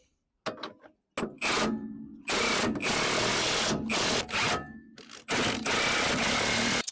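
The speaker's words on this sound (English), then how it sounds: "I was tightening up that nut for the lower ball joint" Bursts of a power tool whirring and rattling, likely an impact wrench tightening a lower ball joint nut on a 1986 Chevy Camaro, start and stop several times with short silent gaps between.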